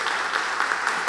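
A church congregation applauds a newly consecrated pastor during an ordination service, a brief spell of soft, scattered clapping heard from a distance.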